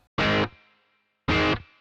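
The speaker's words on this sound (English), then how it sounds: "even that little slap back there from the reverb pedal" Two short bursts of distorted electric guitar played through an amp rig, each followed by a brief faint slapback echo tail from a reverb pedal, with silence between the chords.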